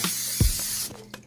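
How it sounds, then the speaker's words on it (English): A short hissing spray burst from a Pam cooking spray can onto a pan, close and fairly quiet, with a faint clatter near the end. "Spray that pan"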